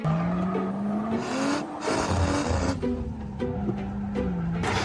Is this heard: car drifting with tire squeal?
yes